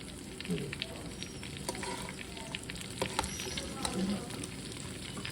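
Stuffed eggplants fry in ghee in a pan for an aloo baingan dish, giving off a steady, close sizzle with scraping stirs and small pops throughout.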